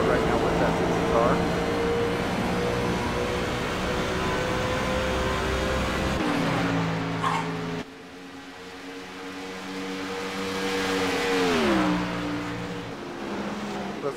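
A race car engine in a virtual oval racing game holds a steady high whine, then drops and climbs through shifts, with a commentator talking over it.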